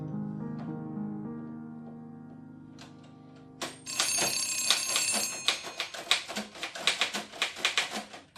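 A telephone rings with a bright metallic bell, preceded by a low sustained tone and a few scattered clicks, then trills in rapid repeated bursts that grow louder and more insistent.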